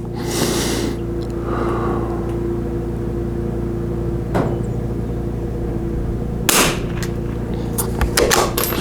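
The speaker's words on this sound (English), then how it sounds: "We're gonna go to the 6 o'clock position on the diamond and take 5 more shots." A Vudoo 360 rifle with a Krieger barrel fires on an outdoor range, a few sharp cracks spread irregularly over a steady background hum, with the nearest reports loud and abrupt.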